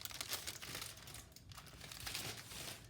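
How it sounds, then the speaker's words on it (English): Paper is pulled and peeled off a stationery package, making a close, steady crinkling and crackling that rises and falls in bursts with no talking. "I'm just going to pull the paper"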